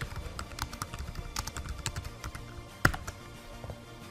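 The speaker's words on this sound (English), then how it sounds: "And I type in some feedback." Typing on a computer keyboard, a quick, uneven run of close, light key clicks with one louder tap near the end, no speech.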